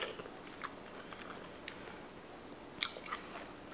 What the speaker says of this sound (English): I love eating mushrooms cooked like this.